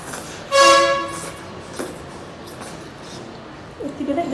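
A train passes nearby, opening with a loud horn blast and followed by rumbling rail noise that fades, with a person speaking briefly over it.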